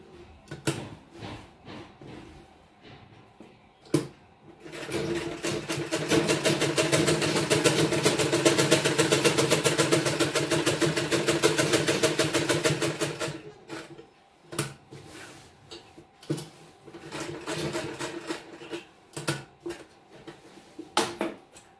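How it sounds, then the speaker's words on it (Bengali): Sewing machine running steadily for several seconds while stitching a fabric pocket with a half-inch seam margin, a close, even mechanical whir framed by short handling clicks and rustles before and after. "সমান করে নিয়ে আমি 1/2 इंची मार्जिन এটা সেলাই করে নেব"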